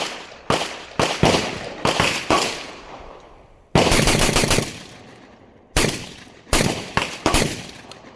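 Beretta 1301 Tac Mod 2 semi-auto shotgun fired rapidly outdoors, loud booming shots in quick strings of several rounds with echoing decay between bursts.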